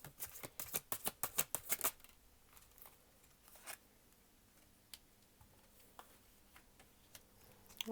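Tarot cards riffle-shuffled in a quick burst of crisp snapping flutters over the first two seconds, then a few scattered soft card taps and flicks in an otherwise quiet room.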